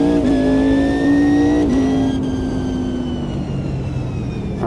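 A race car in a racing video game drives fast laps, its engine a loud, continuous high whine that holds steady, dips slightly as it shifts, then eases lower as the car heads into a corner.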